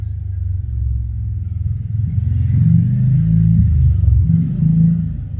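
A passing motorcycle engine gives a continuous low rumble that swells louder in the middle before easing off slightly, heard alone without talking.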